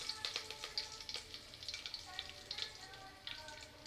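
Mustard seeds, cumin and curry leaves fry in hot oil with a faint, crackly sizzle and scattered sharp pops from the seeds, heard softly and at low volume.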